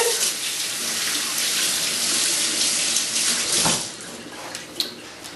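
Hands are washed under a running kitchen tap, giving a steady, close hiss of splashing water that cuts off sharply near the end, followed by a faint drip and clink.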